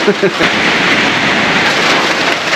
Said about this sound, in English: It was boiling a minute ago and now it's peeing it down.